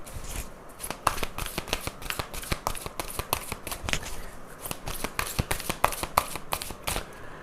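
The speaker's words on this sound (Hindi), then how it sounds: "मैं कार्ड्स निकालती हूँ इसके लिए, इसको क्लैरिफाई करते हैं।" Tarot cards shuffled close up in a quick, steady rhythm of crisp snapping riffles and flicks that continue throughout, with no voice over them.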